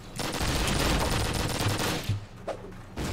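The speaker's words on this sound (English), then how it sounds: "Incoming artillery." Dense, sustained video-game battle fire roars close and loud for about two seconds, then thins into a few scattered bursts and rumbles.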